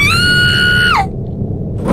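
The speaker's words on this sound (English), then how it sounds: "Well, that's a screech and a half." A ghost's screech in the horror game Corpse Party: Book of Shadows, a loud piercing sustained shriek lasting about a second that bends sharply downward and cuts off into a low rumbling background.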